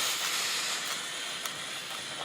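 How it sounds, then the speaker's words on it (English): Steam hissing from an iron held over woolly nylon fabric, a continuous close, fairly loud breathy spray with slight surges, heard alone. "You want to give it some steam"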